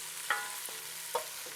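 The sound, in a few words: onions added to a hot pan, sizzling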